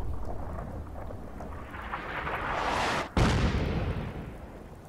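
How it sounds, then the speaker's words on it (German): Artillery fire in the video game Fallout 4 builds as a rising rumbling whoosh, then cuts to a brief gap before a heavy booming explosion that rolls off into a fading rumble. "Hier steht jetzt Artillerieunterstützung zur Verfügung."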